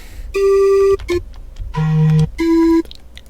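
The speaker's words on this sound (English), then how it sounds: "Let's try this organ." Synthesized organ tones play a few short sustained notes at different pitches, clean and close, with brief gaps between them.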